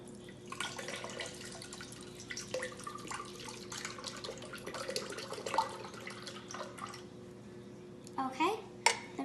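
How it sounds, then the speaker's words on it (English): Pineapple juice pours into a drink with a light, trickling splash, faint and close, broken by small drips and clinks, under quiet background voices. "And then we can put in our pineapple juice."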